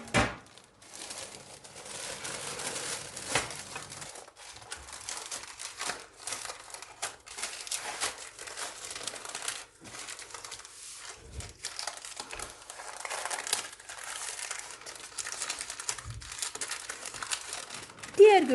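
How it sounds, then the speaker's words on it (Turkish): Parchment paper is peeled off a cooled sponge cake for a heart-shaped layer cake, making crisp crinkling and tearing rustles in irregular bursts close to the microphone, with occasional soft thumps. No speech is heard. "diğer tarafındaki yağlı kağıdı çıkaracağım."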